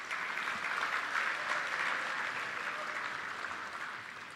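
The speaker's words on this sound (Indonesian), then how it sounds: "Tepuk tangan." A crowd applauds at a university graduation ceremony in Indonesia, many hands clapping in a dense, continuous roar that holds steady and eases slightly toward the end.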